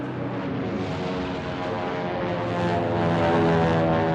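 P-36 propeller aircraft pass overhead, giving a steady, buzzing, harmonic engine drone that swells slightly louder toward the end.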